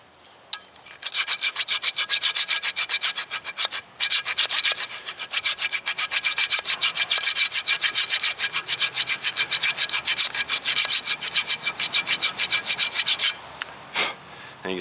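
Rust is scrubbed off the caliper bracket of a 2015 Honda Civic in rapid, even back-and-forth rasping strokes. The steady scraping runs close and loud for about twelve seconds, breaks briefly twice, and has no voices over it.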